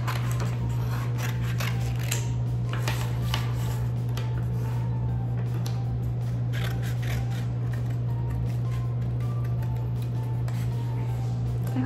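Scissors snip steadily through a paper sheep cutout for a kids' craft, a series of close, crisp cuts over a constant low hum, with no talking.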